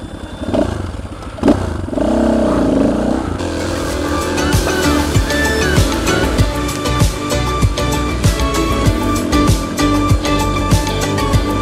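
Motorcycles climb a steep muddy slope beside the Katun river, engines loud and close with uneven revving and gear-strained surges, rattling clatter and bursts of acceleration over the whole stretch.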